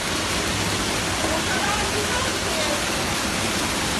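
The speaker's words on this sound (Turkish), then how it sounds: "Suyun akışı." Gürlek Waterfall near Kırkısrak roars steadily as dense, broadband rushing water, loud and unbroken throughout with no pauses.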